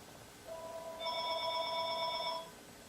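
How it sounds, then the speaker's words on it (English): A house phone rings in another room during a makeup session, a steady electronic tone with bright harmonics rising into a sustained ring about two seconds long, faint to moderate and heard alone without talking. "Please pardon my house phone."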